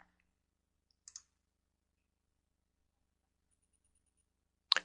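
Computer mouse clicks on icons in the MATLAB software interface: a few sharp, isolated clicks with long quiet gaps between them, including a quick pair near the start and another near the end.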